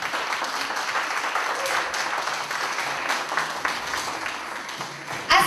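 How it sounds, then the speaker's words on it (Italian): An audience at a winter music festival claps steadily for several seconds, a dense, even burst of applause that carries the whole stretch. "Signori, un applauso."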